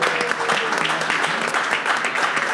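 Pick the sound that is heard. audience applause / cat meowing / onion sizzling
audience applause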